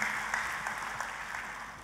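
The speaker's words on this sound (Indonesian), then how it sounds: "Kita kasih tepuk tangannya pula yang paling meriah buat Tuhan kita." Church congregation applauding during a sermon, a dense, steady wash of clapping held at even loudness throughout, fairly close, with no voices standing out.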